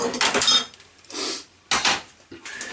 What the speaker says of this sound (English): The next thing we do is give our gelatin a final stir